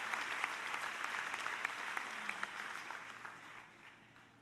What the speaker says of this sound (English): I think that deserves a very resounding round of applause